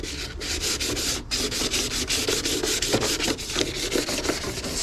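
Sandpaper scrubs by hand over the painted metal of a Nissan 350Z engine bay, rapid back-and-forth rasping strokes repeating in a quick, steady rhythm, close and moderately loud with no voices.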